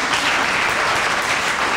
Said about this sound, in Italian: faccio un altro applauso